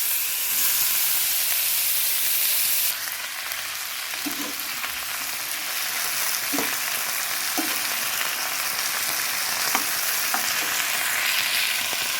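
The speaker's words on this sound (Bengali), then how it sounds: "আবার তেল দিয়ে দিলাম দিয়ে শুকনো লঙ্কা কালো জিরে দিয়ে দিলাম আলু করবো বলে" Dried red chillies and nigella seeds sizzling in hot oil in a pan, with a dense close hiss that fades a little after the start, broken by a few faint stirring clicks.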